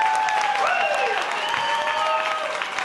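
Wedding guests applaud after a family speech, a steady wash of clapping from a room full of people, fairly close and sustained, with a voice speaking over it.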